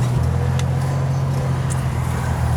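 A 1963 Chevrolet Corvair with its rear-mounted flat-six engine drives in second gear on a road, giving a steady low rumbling hum that stays close and constant, with no voices over it.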